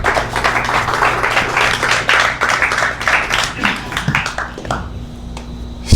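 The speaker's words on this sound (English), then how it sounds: "another round of applause for Ben" Audience applause for a presenter at a Las Vegas tech demo event, with scattered, uneven clapping over a low background hum that thins out and fades toward the end.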